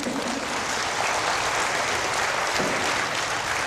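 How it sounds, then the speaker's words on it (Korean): Audience applause for a hard-working staff member at a Korean self-improvement lecture, a dense steady clapping from a crowd filling the hall for the whole stretch. "고생하는 담당자를 위해서 박수 한번 칩시다"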